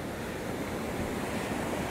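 Spring water from Crystal Springs at Niagara Springs State Park, Idaho, pours out of a culvert into the Snake River, giving a steady, loud broadband rush with no break and no voices.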